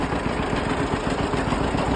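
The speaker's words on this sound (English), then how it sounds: "that's a pretty big engine and it's cold, so can't expect too much" A large, cold tractor engine runs steadily with a rough, throbbing mechanical rumble and constant loud broadband noise, close by and with no voices.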